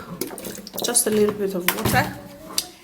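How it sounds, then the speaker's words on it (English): Water pours and splashes in short bursts into a blender, with clattering and voices in the background. "now you're going to be putting in just a little bit of water"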